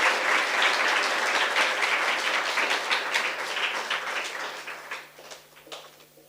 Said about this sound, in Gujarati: આપણે સૌ એમનું તાળીઓથી અભિવાદન કરીએ.